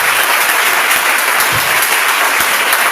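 A church congregation applauds the Holy Spirit, steady dense clapping that fills the space without a break.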